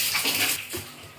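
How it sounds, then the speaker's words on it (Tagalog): Strong, steady rush of water gushing close by, a dense broadband wash that eases slightly toward the end, with no talking over it. "Kinagagas na ang tubig."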